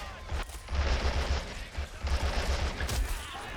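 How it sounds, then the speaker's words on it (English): Dense machine gun bursts and scattered rifle shots in the World War II strategy game Men of War: Assault Squad 2, a steady, loud crackle of gunfire with low booms running through the whole stretch. "this machine gun up on top here with this rifleman still making some good hits into the troopers"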